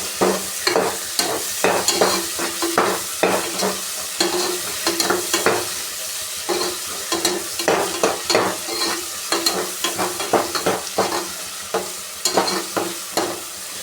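Two onions and a tomato fry in a pan for a spiced cabbage palya. A loud, close sizzle is broken by quick, rhythmic clacks and scrapes as a spoon keeps stirring, with no talking.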